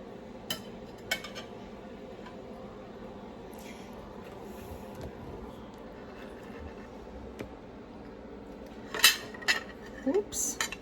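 Silverware clinks against a plate as chicken is cut, scattered taps early on and a louder cluster of clinks near the end over a quiet room hum.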